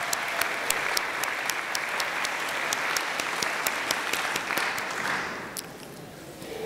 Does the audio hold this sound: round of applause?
yes